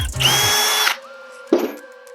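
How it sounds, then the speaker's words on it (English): A power drill runs loudly for nearly a second as it pre-drills a screw hole in wood, then gives a short second burst. "Pre-drill another hole."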